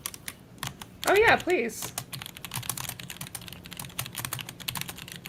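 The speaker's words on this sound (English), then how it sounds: "Sorry, I was typing. I'm sure you You're guys can speed do that. typing. Sorry, I have a very loud keyboard." Rapid clattering keystrokes from a loud computer keyboard, close and busy, briefly interrupted by a short spoken remark before the typing continues.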